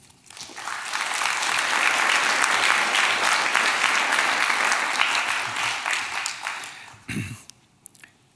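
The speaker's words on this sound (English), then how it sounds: "A warm applause for Pierre Alféry." Audience applause for a speaker at a literary reading fills a hall, thick sustained clapping that swells and holds for about seven seconds before fading, followed by a few handling knocks near the microphone.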